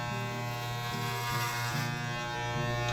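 Electric clippers buzz steadily while shaving a head, a close, continuous hum with slight shifts in pitch as the blades move through hair, with no talking.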